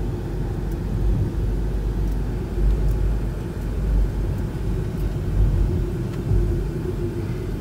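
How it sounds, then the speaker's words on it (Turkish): Low, continuous traffic rumble fills the air at the Aksaray intercity bus terminal, a steady engine drone with faint passing vehicles and no voices. "otobüs terminali Aksaray Şehirler Arası diyor."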